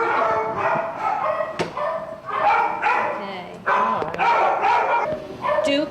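Inside animal shelter kennels, a chorus of dogs barks and yelps in loud, overlapping bursts, reverberant and near, while someone speaks amid the noise.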